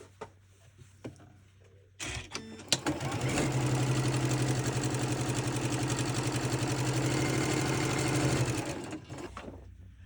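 A sewing machine stitches a quilt block seam in one continuous run of several seconds, a close, even rapid chatter of the needle with a low motor hum, starting abruptly and stopping cleanly after a few quiet handling sounds.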